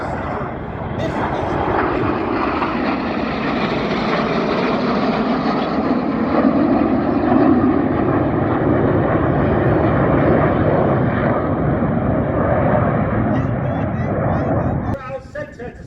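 Red Arrows jets fly at the Shuttleworth airshow with a loud, sustained engine roar that swells and holds for most of the clip before cutting off near the end.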